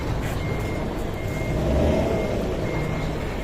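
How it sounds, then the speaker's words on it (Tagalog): Large trucks reversing onto a ship, steady repeating reversing beeps over a low diesel engine rumble, moderately distant and continuous. "Yan, yung mga umatras na malalaking truck na yan, sunod-sunod na yan sila."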